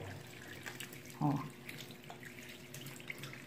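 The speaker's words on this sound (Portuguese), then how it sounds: "A gente encosta aqui no vidro e vai enxaguando, ó, bem pouquinho água pra não espirrar" Water runs in a thin trickle, rinsing a glass window with very little water during household cleaning of a children's bedroom, a soft steady flow with a brief splashy swell and a person speaking briefly over it.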